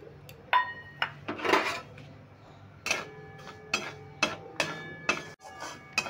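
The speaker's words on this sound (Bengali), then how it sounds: "এবার আমি সুজিটা একটু হালকা করে ভেজে নেব।" Semolina is dry-roasted in a wok while a spatula scrapes and taps against the metal in repeated, close, uneven strokes with clinking and scraping between them. Nobody talks.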